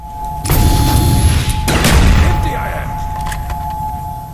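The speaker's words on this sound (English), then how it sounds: "The explosion's not gonna kill them one shot anymore, I don't think." Explosions and gunfire ring out in a Call of Duty Zombies match on the Ascension map, with a loud sustained boom and rumble followed by scattered shots. Players talk faintly underneath.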